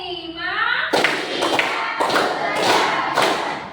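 Students in a classroom clap together in a counted icebreaker clapping game, with loud group claps arriving in about four separate bursts after a voice speaks at the start.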